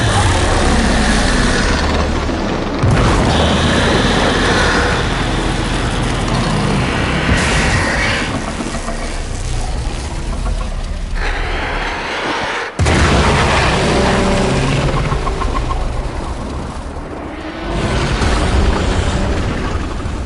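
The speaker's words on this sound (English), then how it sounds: "There should be useful detritus falling from the explosion." Heavy explosions in the Warframe Heart of Deimos quest: a loud, continuous roar of blasts and rumbling with sharp booms at intervals, dense and close throughout with no talking.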